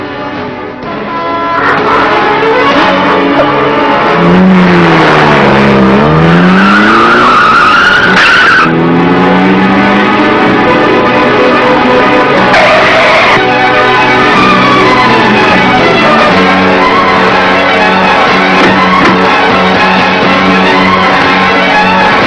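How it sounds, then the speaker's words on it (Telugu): Tires skid on a car driving along a hillside road, with loud sustained squealing and engine noise over a steady backing of music. "కార్ డ్రైవ్ చేస్తూ కొండ పక్కన వెళ్తుందమ్మా"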